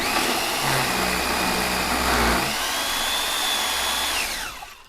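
A Case Prep Duo machine trims spent 9mm brass cases with a continuous high motor whine and a grinding, cutting tone that shifts partway through before spinning down at the end, with no talking.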